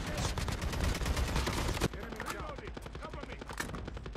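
Rapid gunfire in the mobile video game Call of Duty Mobile during a battle royale match, a dense stream of loud repeated shots that thins out after a couple of seconds, with talk over it.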